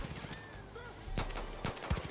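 Weapon fire in the video game Far Cry 5, a few sharp gunshot cracks spaced irregularly with a heavier final report, set against faint game ambience and bird calls.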